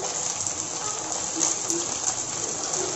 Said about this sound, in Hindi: ऑयल गर्म हो गया है, अब हम इसमें डालेंगे कटा हुआ प्याज, साथ ही साथ हम इसमें डालेंगे शिमला मिर्च,